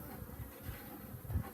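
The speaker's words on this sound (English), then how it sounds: "I don't want all these bees here." Honey bees from a Saskatraz package hum and buzz around a hillside hive during installation, a faint, steady close drone with no talk.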